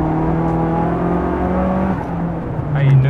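Car engine held at steady revs under acceleration during a driving training session, a loud continuous drone with a rise in pitch near the end, with voices faintly underneath.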